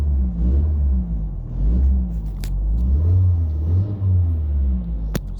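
Ford EcoSport engine running with worn engine supports, a close, loud low rumble and heavy vibration that swells and fades in slow waves, with a couple of faint ticks.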